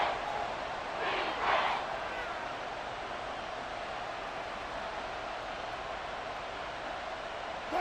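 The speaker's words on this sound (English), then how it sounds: "This crowd doing all they can." Stadium crowd noise in a Madden NFL 24 football game, Denver against Miami late in the fourth quarter: a steady wash of distant crowd roar with a brief swell near the start, no clear talk over it.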